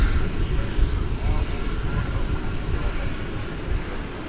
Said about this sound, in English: It is Ameriflight Flight 1745 arriving from Lubbock, Texas.